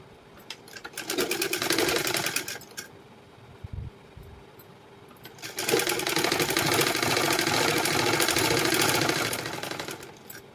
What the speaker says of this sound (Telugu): ఫస్ట్ ఎడ్జ్ అయితే స్టిచ్చింగ్ చేసేద్దాము.